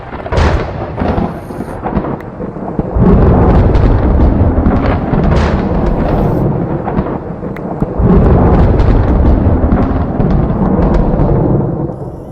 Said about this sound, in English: we've just heard the most humongous amount of lightning